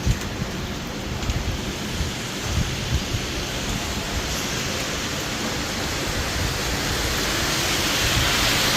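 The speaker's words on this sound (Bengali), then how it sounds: "রাত তিনটে থেকে বৃষ্টি হচ্ছে মানে ঝিঝির করে পড়ছে এখন একটু একটু জোরে হচ্ছে" Steady rain falls outdoors near parked cars in a dense, even hiss that grows gradually louder toward the end, with no talking.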